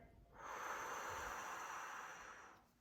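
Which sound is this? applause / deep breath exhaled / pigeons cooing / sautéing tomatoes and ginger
deep breath exhaled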